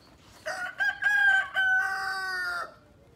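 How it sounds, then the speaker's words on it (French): A rooster crows one long, drawn-out call, close and clear, standing out above a faint background of hens. "Je vous mets les poules en attendant."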